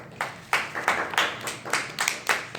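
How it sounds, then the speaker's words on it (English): A small audience claps for a presenter at a live broadcast event, about a dozen distinct, irregular claps from a few hands, close and moderately loud, with gaps between them. "could you give him a round of applause, please?"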